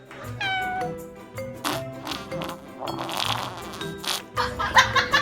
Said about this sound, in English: Those eyes and that meow say it all.